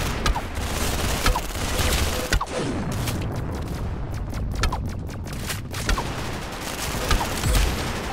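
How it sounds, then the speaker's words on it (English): Rapid gunfire from Roblox Arsenal gameplay, a dense, continuous fusillade of close, loud shots with sharp cracks scattered throughout, no talking. "That's some beautiful shooting right there."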